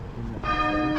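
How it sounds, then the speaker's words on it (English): Church bells ring near a castle in Skipton, as a loud, sustained metallic peal with ringing overtones starts abruptly over outdoor wind noise and continues. "We'll get away from the bells eventually, Lee."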